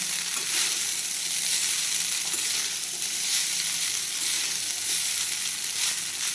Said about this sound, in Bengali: চাউমিনের সাথে আমি সবজিগুলো খুব ভালোভাবে মিশিয়ে নিচ্ছি